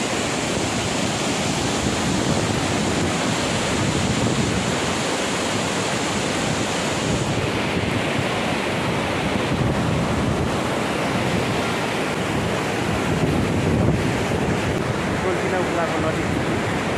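Swollen Tinau river in Butwal rushing after three days of steady rain, a loud, continuous broadband roar of fast floodwater close by, steady throughout with wind buffeting the microphone.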